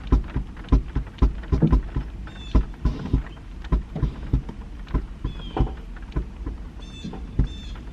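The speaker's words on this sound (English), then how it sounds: "It is starting to rain now" Steady rain patters around, with sharp irregular taps and drips on a nearby car over several seconds.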